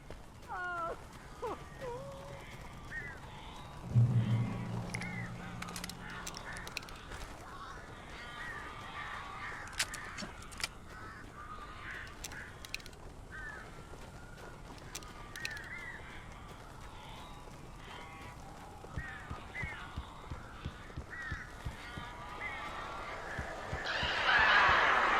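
Crows caw repeatedly in the game Alan Wake Remastered, with scattered calls over a steady, eerie ambient bed and a louder burst near the start and end.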